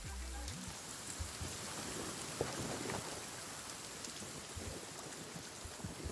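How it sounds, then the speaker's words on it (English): Heavy rain in The Forest survival game, a dense, steady roar of drops on surfaces, loud and continuous with a faint low rumble, no speech over it. "Dang, this rain is loud."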